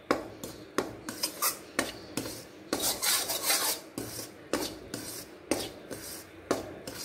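A spoon scrapes and stirs flour roasting in a pan over a low flame, giving repeated gritty rasps in a steady rhythm, close and soft, with no voices.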